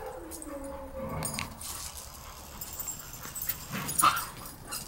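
Several dogs play together at a dog daycare, with panting, small yips, whimpers and scuffling in a moderately quiet room, the sounds coming in short irregular bursts.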